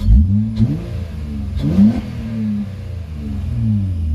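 An Acura TL's exhaust revs up and settles, a loud, close engine growl that swells twice and then holds a steady idle-like drone, with no voices.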